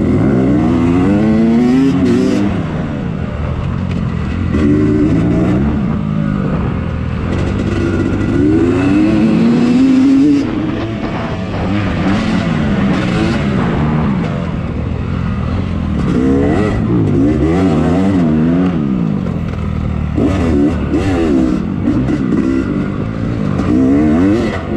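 A racing dirt bike engine rides close behind on a slick high-speed section of a scramble track, loud and continuous, revving up and down as the rider shifts and accelerates, with no talk over it.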